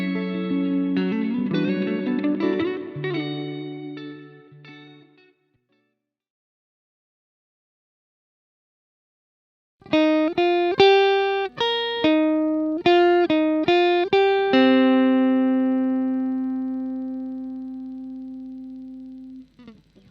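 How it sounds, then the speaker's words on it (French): Electric guitar played through a Neunaber Seraphim Mono Shimmer reverb pedal, a strummed passage fading out, a pause of silence, then plucked chords and notes with bright, ringing shimmer tails that decay slowly. "le Shimmer est une reverb de type céleste qui emmène le son vers une dimension plus éthérée"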